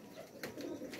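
Pigeons coo softly on a rooftop loft setup, giving a couple of faint, brief throaty calls against quiet background noise.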